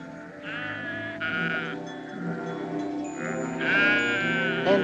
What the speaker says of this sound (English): and the sheep cried again